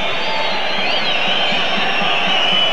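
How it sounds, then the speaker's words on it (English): A football crowd at the end of the 1992 FA Vase Final between Wimborne Town and Guiseley whistles continuously, with shrill overlapping whistles above a steady wash of crowd noise that holds throughout. "whistles from the crowd"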